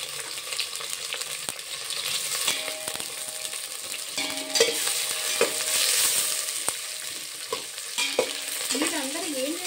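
Food frying in a pan for a Telugu lunch of carrot coconut milk rice with brinjal masala curry, a steady close sizzle with repeated stirring scrapes and clinks, plus a brief tonal beep near the end.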